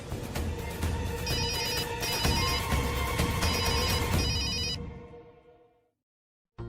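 A telephone rings in a Hindi TV drama scene, a loud repeating electronic ringtone with a steady melodic pattern lasting several seconds before cutting off abruptly into silence, with no speech over it.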